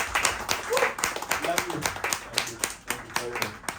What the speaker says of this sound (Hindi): तो एक बार जोरदार तालियां सबके लिए